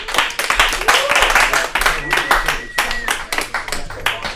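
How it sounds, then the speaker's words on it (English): A comedy club audience claps for comedian Jeff Brumfield as he is brought up, brisk uneven clapping with whoops and voices mixed in, fairly loud and close. "Give a round of applause for Jeff Brumfield"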